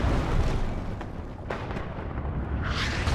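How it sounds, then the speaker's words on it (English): Artillery explosions in the video game WARNO boom and rumble in a thick, continuous wash, with a few sharper impacts standing out amid the roar. "Well, that artillery was so on point."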